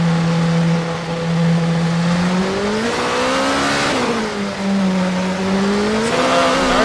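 Race cars from a racing video game pull out of their pit boxes for a qualifying lap at Sebring, engines droning loud and close, with rising and falling revs as they accelerate.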